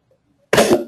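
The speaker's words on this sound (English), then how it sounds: "I got sore throat and I'm coughing" A single harsh cough bursts out after a half second of near silence, loud and close, followed by a brief second hack.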